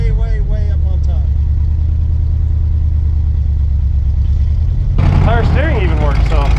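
An old GMC truck engine, abandoned for 30 years, runs at a steady low idle throughout with a constant rumble, while people talk over it near the start and again near the end.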